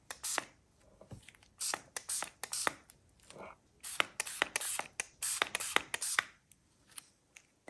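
Gold Mine shimmer dye spray from a pump bottle misted onto a junk journal page, a run of short hissing bursts in quick clusters with brief pauses between, close and fairly loud.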